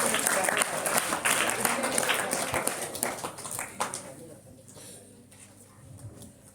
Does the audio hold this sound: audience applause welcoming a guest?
yes